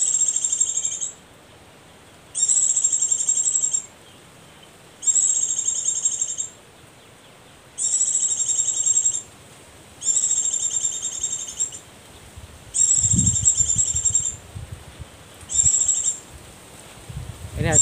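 Bursts of high, thin chirping oriental white-eye calls, played as a lure, repeat in a regular on-off pattern, about a second each with short gaps, with a faint low rumble briefly underneath.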